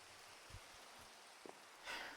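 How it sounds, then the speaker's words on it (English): Steady, faint rain hiss from the Minecraft game, a soft even wash that stays low throughout with a couple of brief quiet bumps and no talking. "I do like the sound of rain,"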